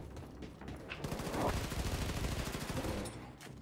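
Sustained rapid gunfire in the PC shooter Wolfenstein II: The New Colossus, dense automatic bursts rattling continuously for several seconds at moderate loudness, with no talk over it.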